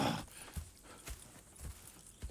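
Horse hooves clip-clop in a steady walking rhythm in the video game Red Dead Redemption, about four distinct thuds spaced evenly, moderately close with a faint ambient background.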